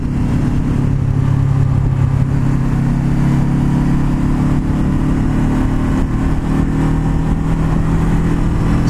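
A Honda CBR500R motorcycle engine drones steadily and loudly throughout during downshifting, a continuous mid-pitched rumble with no talk.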